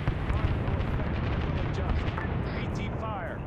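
White phosphorus artillery rounds land danger close in a Vietnam war video game, a dense continuous roar of blasts and rumbling impacts with gunfire crackle, a voice talking over the top.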